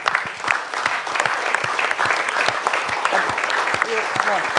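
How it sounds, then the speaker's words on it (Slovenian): At a Slovenian film premiere, a crowd applauds the film crew with loud, sustained clapping, many hands overlapping into a dense rattle with a few distinct sharp claps and faint voices near the end. "Pa še en bučen aplavz za vso ekipo skupaj"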